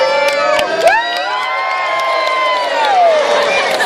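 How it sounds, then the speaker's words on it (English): A zoo crowd at a sea lion show at Whipsnade Zoo cheers and whoops loudly, with children's shouts and high excited voices over a few claps, sustained for several seconds. "Let's give him a cheer!"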